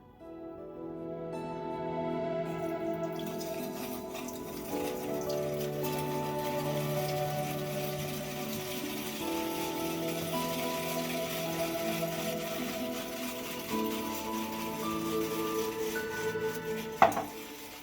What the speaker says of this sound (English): So right now I'm using a whisk to whisk all these ingredients together.